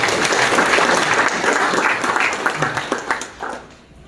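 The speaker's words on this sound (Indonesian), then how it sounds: "Tepuk tangan bagi Yesus Tuhan" A church congregation at a Sunday service in Tawangmangu breaks into loud, full applause and cheering that gradually fades out.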